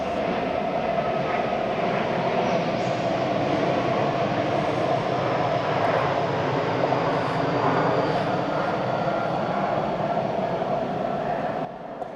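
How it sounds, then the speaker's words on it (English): An airplane passes low over a park on its approach to Pittsburgh International Airport, a loud, steady, broad roar with a droning hum that holds for the whole stretch before dropping off at the end. "I believe the Pittsburgh International Airport is actually using the runway coming directly over the park this morning."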